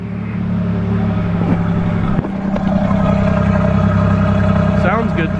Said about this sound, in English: I love these late 80s, early 90s V6 cars. They sound good